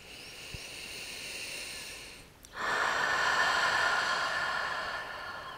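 Slow, deep breathing during a beginners' yoga pose: a long, soft inhale, a brief pause, then a fuller, louder exhaling rush that gradually tapers, close and alone.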